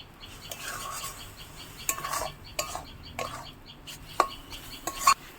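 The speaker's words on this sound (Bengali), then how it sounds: "এটা কিন্তু শুধু নাড়িয়ে যেতে হবে, যাতে নারকেলের তলাটা না ধরে যায়।" Grated coconut with cardamom is stirred in a pan, a spatula scraping and clinking against the metal in irregular strokes over a low background, several sharper knocks near the end, no talking.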